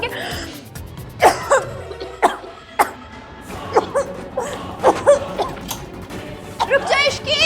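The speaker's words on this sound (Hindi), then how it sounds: "इतना धुआं करेंगी तो खांसी आएगी ना" Someone coughs repeatedly from smoke in short, sharp bursts, close by, with brief pauses between fits.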